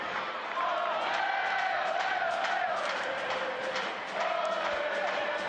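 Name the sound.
stadium crowd cheering at soccer match at Al Lang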